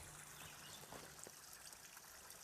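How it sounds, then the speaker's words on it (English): Small stream of water trickling along a weedy creek, a faint, steady hiss and gentle babble with no voices. "Well, now right here's a nice little stream of water."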